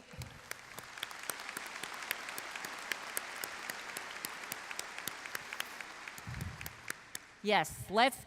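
A commencement audience at a spring college ceremony for education and health professions graduates breaks into sustained applause, dense and steady for several seconds before a voice speaks over its tail.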